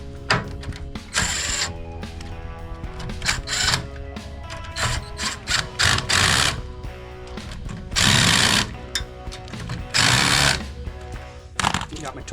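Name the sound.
tightening subframe bolts on Pontiac Firebird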